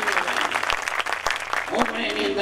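An audience at a satsang and idol consecration festival in Champa claps for an honored elder, giving a dense ripple of hand claps under someone speaking over a loudspeaker.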